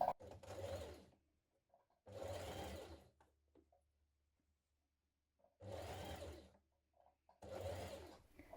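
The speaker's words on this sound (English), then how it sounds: "Now from the right side, you're going to top stitch around your collar here." A sewing machine topstitches around a dress collar in four separate bursts of steady mechanical whirring, each roughly a second long, with near silence between runs.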